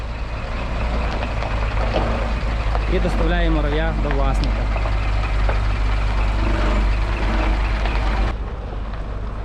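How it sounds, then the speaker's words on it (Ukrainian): A loaded truck carrying a Muravey motor scooter pulls away, its steady low engine rumble running loud and constant underneath while someone talks over it. "Загрузили, машина виїжджає"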